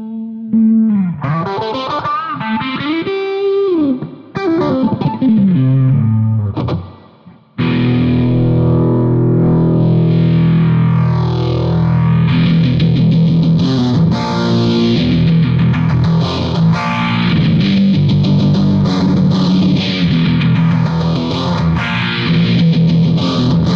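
An electric guitar runs through a Valeton PH-10 phaser pedal on a slow sweep setting, a loud distorted part whose tone swells and dips in long, repeating whooshing arcs, with a brief drop-out near the start and no talking.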